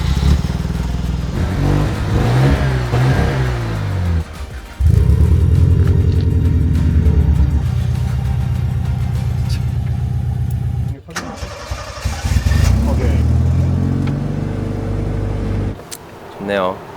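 A Mazda RX-7 sports car engine cranks, fires and revs repeatedly, its rotary roar rising and falling in loud bursts with brief dips between, close by, while people talk over it.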